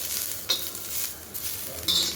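Steady sizzle of onion, ginger and garlic frying in a pan, with a couple of brief scraping stirs cutting through the crackle.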